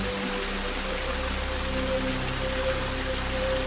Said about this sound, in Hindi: पूरे इलाके में लगातार तेज बारिश हो रही।